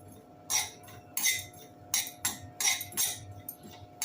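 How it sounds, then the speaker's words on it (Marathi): Poppy seeds roasting in a hot kadhai, with a series of bright, crisp clinking scrapes as a spoon stirs and tosses the seeds against the metal, about eight irregular strokes over a low background hum. "इथे मी कढई गरम केली आहे त्याच्यात आपण खसखस भाजून घेऊया"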